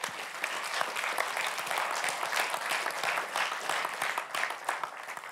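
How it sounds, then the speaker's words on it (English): Steady applause from a sizeable audience, dense clapping held at an even level for several seconds. "Let's have a round of applause for them again"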